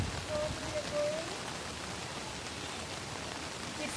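Steady rain falls outdoors in front of a church, a dense even hiss of drops on surfaces throughout, with a faint tone early on.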